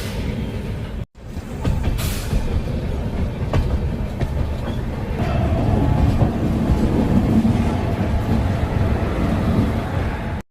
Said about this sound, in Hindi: ये रही अपनी ट्रेन।